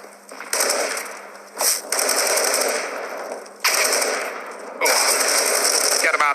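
Bursts of automatic gunfire from Counter-Strike on the Dust2 map, a pro G2 versus BIG grand final match, come in several loud sustained rattling volleys separated by short gaps, with casters talking over them.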